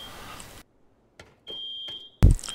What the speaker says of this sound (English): when I press the button on the transmitter, door will open and you get an audio alarm from the speaker.